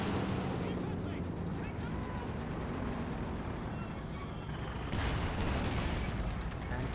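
Strafing-run gunfire from an aircraft in the Company of Heroes 2 strategy game rattles in dense, continuous bursts with rumbling impacts, growing louder near the end, under a steady game soundscape.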